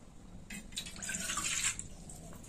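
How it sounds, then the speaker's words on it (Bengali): Water poured into simmering biulir dal with bottle gourd, a short, faint gurgling splash lasting about a second in a quiet kitchen. "এবার একটু জল দেব।"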